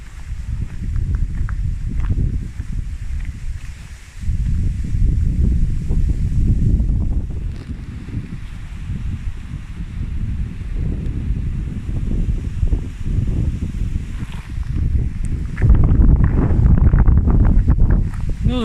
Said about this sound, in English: Another blustery day.